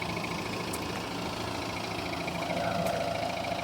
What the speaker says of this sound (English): got used to this rattling noise of the diesel